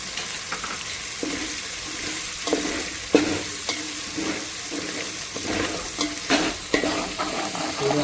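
Green paste for a green pulao sizzles and fries in a pan, with repeated scraping strokes of stirring throughout and a steady frying hiss underneath.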